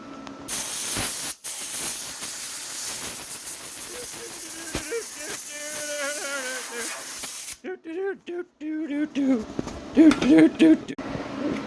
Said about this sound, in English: you got to blow all the crap out because now you've got that junk in there